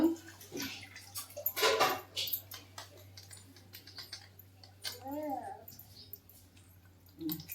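Water splashes and pours briefly into a cooking pot of brinjals with a light clatter of utensils, followed by quieter kitchen noises and a short murmur of voice.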